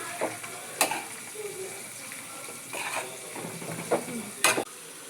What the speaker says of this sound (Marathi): आणि हलवून घेऊ.